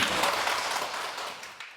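A lecture audience gives a short burst of applause that starts at full strength and fades over under two seconds, with no talking.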